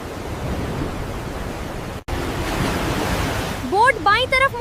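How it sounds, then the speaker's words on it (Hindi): Rushing water from a cartoon waterfall roars as a loud, steady broadband wash, broken by a brief cut, with a whooping, warbling cartoon effect rising over it at the end. "ओह, आगे वाटरफॉल है।"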